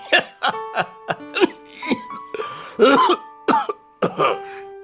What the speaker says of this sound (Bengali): তুমি তো এখনো কাশছো বাবা ডাক্তার দেখিয়েছিলে